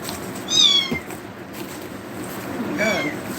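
Small domestic kittens meowing loudly inside a Tears of the Kingdom game scene, two high-pitched mews about two seconds apart, close and clear over a quiet background.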